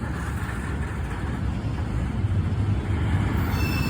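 A CSX freight train rolls through a railroad crossing up close, its wheels and cars making a loud, steady rumble with a faint metallic squeal and clatter that holds for the whole span.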